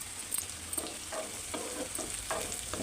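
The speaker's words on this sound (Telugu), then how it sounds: "మనం వేయించుకున్న కాకరకాయలు వేసుకుందాం. వేసుకొని కలుపుకొని" Fried bitter gourd pieces are stirred into a sizzling curry pan, with a soft continuous sizzle broken by repeated scraping stirs from a spoon, close and fairly quiet, with no voices.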